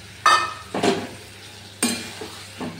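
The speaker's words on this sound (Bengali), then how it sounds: "এর মধ্যে আমি দিয়ে দেব এবারে ভাজা পনিরের টুকরোগুলো।" Fried paneer pieces tip into a pot of boiled vegetables and are stirred in, giving a few separate scrapes and clinks of a spoon against the pot with a soft sizzle between them, close and fairly loud.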